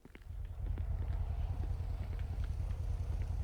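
A motorcycle engine in the Yakuza video game drones steadily at low pitch, loud and continuous after a brief rise at the start, with no talk over it.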